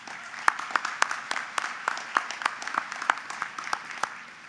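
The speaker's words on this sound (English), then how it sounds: "Let's give him a round of applause." Sparse, distinct claps from a small number of hands at a spring commencement ceremony, irregular and fairly close, fading toward the end with no talk over them.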